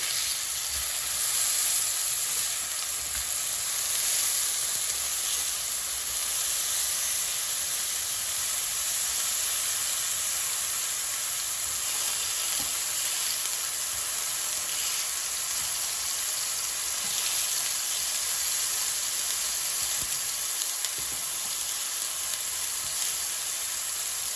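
Tomatoes pan-frying on their second side give off a steady, loud sizzle with a fine hiss, continuous and close, with no voices over it.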